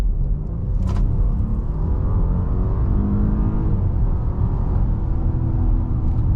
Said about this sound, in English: So pretty brisk acceleration from the A8.